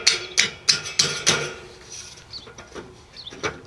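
A small-headed hammer drives nails into metal skirting on a mobile home in a run of sharp strikes, about five quick loud blows and then several lighter taps.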